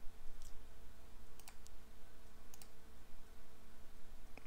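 A few crisp clicks of a computer mouse and keys, used as a keyboard shortcut in photo editing software, sound in quick pairs over a faint steady hum.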